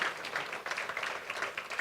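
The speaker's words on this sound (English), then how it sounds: "Can we give him a round of applause?" Audience applause at a 2017 jobs summit, a soft, steady patter of many hands clapping, heard faintly and continuously with no voices over it.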